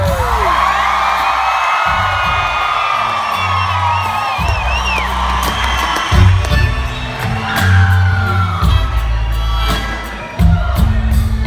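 A live concert crowd screams and cheers loudly at a show in Berkeley, with whoops and shrill yells rising over a low rumbling band and bursts of applause throughout.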